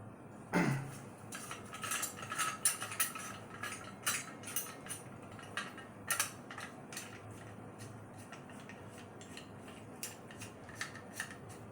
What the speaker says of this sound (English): Shovel head folds down, and now you got yourself a hoe